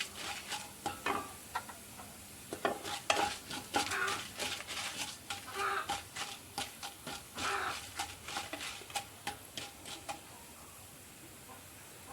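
Mustard seeds, dried red chillies and urad dal fry in hot oil in a pan for cabbage thoran, giving a steady close sizzle broken by frequent sharp crackling pops and stirring scrapes.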